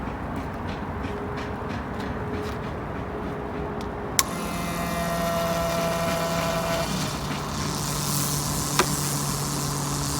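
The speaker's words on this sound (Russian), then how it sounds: "Наш мотор. И сейчас будем запускать." Car engine being started for an oil change catches partway through and settles into a steady, low idle hum, heard close and alone with no talking.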